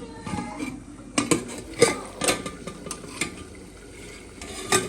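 Cooking pot being uncovered in a home kitchen, with sharp metallic clinks and clatters of pots and utensils coming in scattered bursts over quiet background noise.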